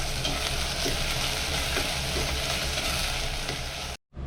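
Chopped onions and curry leaves sauté in a pan for a vegetarian fish-style curry. A loud, even sizzle fills the whole stretch, then cuts off abruptly near the end. No voices.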